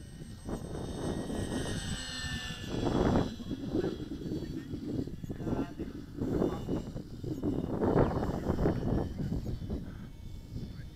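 Douglas DC-3 piston engines run at full throttle, a loud sustained roar with surging, pulsing swells throughout and some wind buffeting on the microphone.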